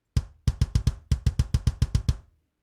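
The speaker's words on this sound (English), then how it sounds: "By default, the kick sounds like this." Default kick drum from a software drum kit, used for heavy songwriting: eleven punchy, booming hits in a quick uneven rhythm, close and loud with no voices, ending in a short decay.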